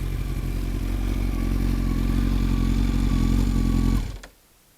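A Kawasaki ZX-12R motorcycle with an Akrapovic exhaust idles loudly and close with a deep, steady engine rumble, then cuts off abruptly near the end, leaving near silence.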